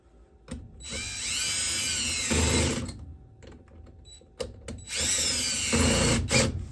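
A power drill tightens screws on a Fasco A984 draft inducer blower motor, whirring in two long bursts with a whining pitch and short pauses between them.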